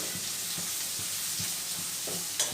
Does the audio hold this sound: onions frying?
yes